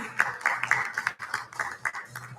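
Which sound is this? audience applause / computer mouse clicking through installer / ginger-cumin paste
audience applause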